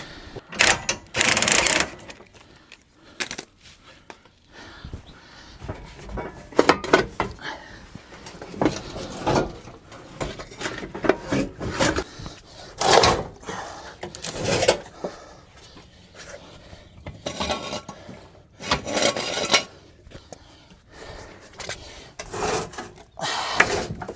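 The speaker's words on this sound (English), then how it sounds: "Now I'm going to maneuver out the fuel tank." Fuel tank of a 2002 Chevy Astro being worked out from underneath the van, a long run of close scraping, rubbing, knocking and clunking in irregular bursts.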